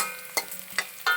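Slit green chillies sizzle in hot oil for a Kerala-style okra mappas curry, with three sharp spoon scrapes against the pan breaking up a steady, close crackle.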